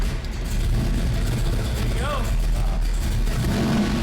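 A Yenko Camaro muscle car's engine roars with a steady, loud rumble that holds throughout, and a voice talks briefly over it.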